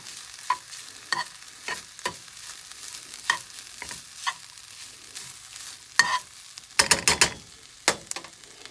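A spatula scrapes and taps repeatedly in a pan as quinoa fried rice is mixed, irregular close knocks and scrapes over a faint sizzle, quickening into a short burst of clatter near the end.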